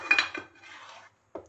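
A spoon scrapes quickly around a pan of thickening besan barfi mixture: a few close, brisk metallic strokes, a brief pause, then one more scrape.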